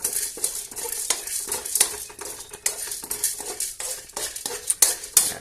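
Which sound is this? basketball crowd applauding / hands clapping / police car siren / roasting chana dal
roasting chana dal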